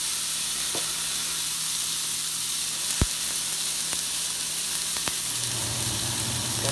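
Steak frying in a hot pan gives a steady, close sizzle with a few sharp clicks and pops, and no talking.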